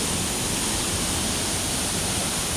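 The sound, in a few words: Katibawasan waterfall in Camiguin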